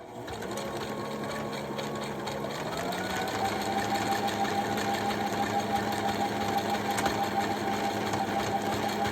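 A Brother LS-590 sewing machine stitches a buttonhole with its buttonhole foot engaged, a steady close mechanical hum and rapid needle rattle running without pause; its pitch shifts slightly partway through as the stitching changes direction.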